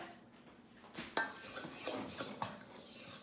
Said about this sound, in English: A good stir.